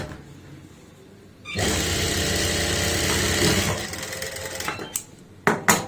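A sewing machine stitches a churidar pajami seam in a loud, fast, close whir for a couple of seconds, then stops, followed by a few sharp clicks and knocks.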